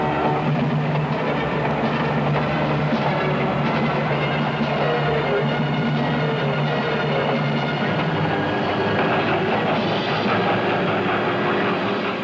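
Sealed boxcars of a train roll along in a continuous, dense low rumble with steady clatter, loud and unbroken throughout, with no voices.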